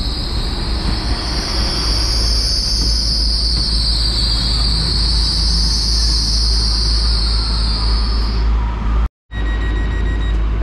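Great Western Railway class 800 unit 800 013, the 16:18 Cardiff Central to Penzance service, arrives at Exeter St Davids with a continuous rumble and a high, sustained wheel squeal that ends abruptly.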